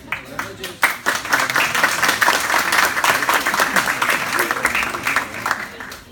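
Audience applause fills the hall at a talk on violence in football in Liverpool, Canelones, Uruguay: dense, steady clapping from a crowd, loud and sustained throughout the clip with no speech over it.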